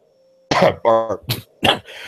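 A man coughs several times in quick succession, close and loud, with a throat-clearing rasp between the bursts.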